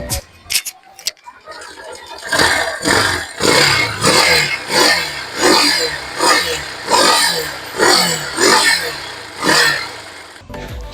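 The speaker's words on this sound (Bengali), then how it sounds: "এটার ইঞ্জিনের কন্ডিশন ওটার থেকেও খারাপ অবস্থায়। তো আমি একটু দেখাই আপনাদের সাউন্ডটা।" A used motorcycle with a worn, rough-running engine revs repeatedly in uneven bursts, loud and close, with clattering rough pulses between each rev.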